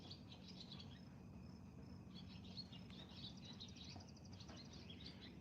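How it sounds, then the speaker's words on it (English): Faint outdoor night ambience with a steady cricket chirping and a couple of birds calling intermittently, all quiet and distant over a soft background hiss. "hear a cricket, at least two birds, water dripping, and"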